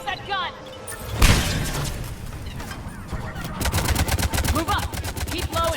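A mounted gun fires in Mass Effect 3 combat near a satellite tower, with sharp bursts and rapid repeated shots under shouted voices amid other battle noise.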